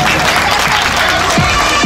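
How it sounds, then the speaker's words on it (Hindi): Loud, enthusiastic applause from a crowd at a Republic Day gathering with speeches, dense clapping throughout the short burst. "जोरदार तालियां।"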